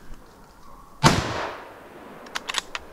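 A single sharp rifle shot rings out during a wild boar hunt, close and loud, its blast decaying into a rolling echo, followed by a few faint clicks and knocks.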